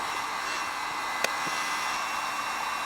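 A heat gun blows a steady, loud airy hiss while warming a car headlight housing, with a single faint click partway through and no voices.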